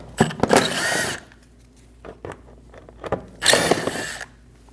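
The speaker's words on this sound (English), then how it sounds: "We're going to remove all of the T25 screws for our fender liner." A power driver removes T25 screws holding the front inner fender liner of a 2012-2022 Volkswagen Passat, two close whirring bursts separated by quieter clicks and handling of parts.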